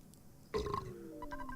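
Burp sound effect from the video game Earthbound, one short, fairly faint belch that rises and trails off into a gliding tone, alone without speech.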